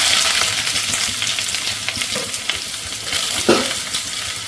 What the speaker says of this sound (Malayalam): എണ്ണ നന്നായിട്ട് ചൂടായിട്ടുണ്ട്. നമുക്ക് അതിലേക്ക് അരിഞ്ഞു വെച്ചിരുന്ന സവാള ഇട്ട് കൊടുക്കാം.